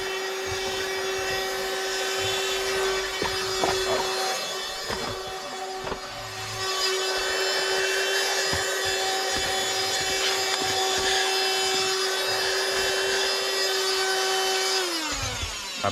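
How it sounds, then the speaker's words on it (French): A TOPDON handheld car vacuum cleaner running close up, giving a steady motor hum with a high whine over it. It holds one pitch for most of the time, then drops near the end, with scattered rattles of debris being sucked in. "je trouve que les petits aspirateurs de voiture, c'est pas mal, ça sert bien"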